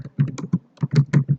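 A short burst of about eight quick, crisp keystrokes on a computer keyboard while a Java compile command is typed into a terminal, heard up close with no talking.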